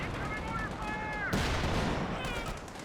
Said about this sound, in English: just continuously getting bombed on by these mortars as he tries to cap in the middle